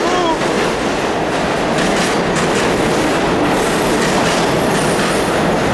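A subway train passes close by at 14th Street, a loud continuous roar of rolling wheels with clattering and faint squeal throughout.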